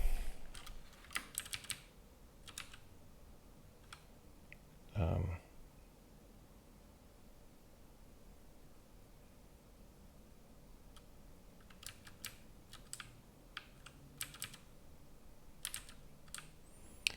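Computer keyboard typing in short bursts of close clicky keystrokes separated by quiet gaps, with one louder thump partway through.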